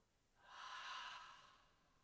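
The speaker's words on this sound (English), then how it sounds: "breathing in through the nose and out through the mouth" A slow exhale out through the mouth during a seated chair yoga breathing exercise, one soft airy breath swelling and fading over about two seconds, close and quiet with no talk.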